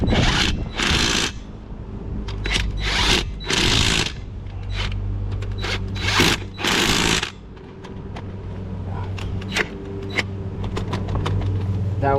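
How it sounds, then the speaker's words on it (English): A power drill whirs in repeated short bursts beside a Dodge Charger SRT during a roadside tire change, loud and close, with mechanical rattling and a steady engine-like hum underneath. "Let me get my drill."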